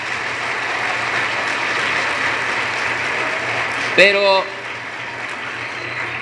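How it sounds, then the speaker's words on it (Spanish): Steady applause fills the room from an audience at a political movement meeting of community leaders, continuing evenly throughout, with a brief voice breaking in near the end. "les quiero pedir que se den un aplauso"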